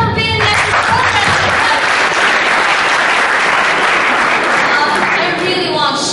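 An audience at a public speaking event claps loudly and continuously, a dense, close wash of applause that holds steady throughout, with voices faintly mixed in.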